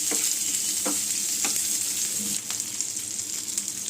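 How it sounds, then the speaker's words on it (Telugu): Four or five garlic cloves frying briefly in a pan for a Telugu onion-chilli relish, a steady close sizzle punctuated by a few spoon strokes and stirring scrapes. "4-5 వెల్లుల్లిపాయ రెబ్బలు వేసానండి"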